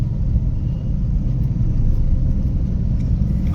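A car engine pulls away in second gear during a driving lesson, giving a loud, steady low rumble close by with no clear change in pitch.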